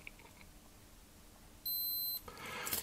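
A Q&Q Superior by Citizen melody alarm chronograph watch gives a single loud electronic beep lasting about half a second, then a louder burst of hiss and noise follows.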